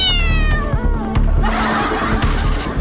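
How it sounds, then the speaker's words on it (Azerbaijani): A cat meows loudly and close, several drawn-out, wavering cries in quick succession over about three seconds. "Pişiklər neçə fərqli səs çıxara bilir?"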